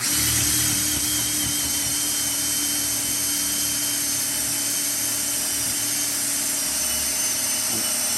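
A power drill with an impact drill bit whines continuously at a steady, loud pitch throughout, running without pause while boring into lumber.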